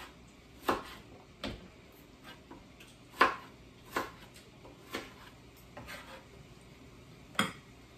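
Knife slicing tomato on a cutting board while preparing ginataang crabs, heard as a series of sharp, irregular taps and clicks of blade meeting board, close and fairly quiet with no talking.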